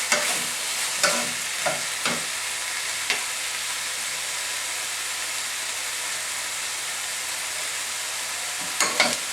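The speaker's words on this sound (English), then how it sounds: "So wait till the chicken starts to cook off before adding anything else." Chicken sizzles loudly in a hot pan during a simple stir-fry, a dense steady frying hiss with a few scraping stirs of the utensil near the start and again at the end, close up and with no voices.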